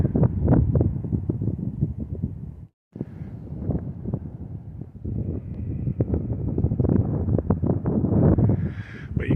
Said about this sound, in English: A little bit more windy on this side